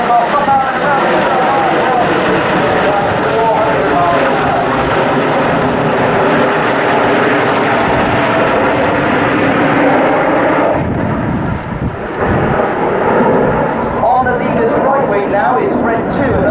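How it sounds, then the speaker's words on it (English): Red Arrows display jets at the RAF Waddington air show, a loud continuous roar of aircraft passing around the field that swells and shifts over time, with an announcer's voice running over it. "Lots of waving again, boys and girls, as the aircraft come out and around."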